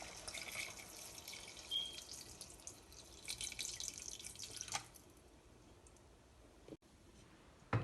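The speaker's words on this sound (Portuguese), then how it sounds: "colocando água até cobrir" Water runs into a cooking pot over chicken pieces, a soft steady pour with drips and light clicks, then it tapers off near the end; no one speaks.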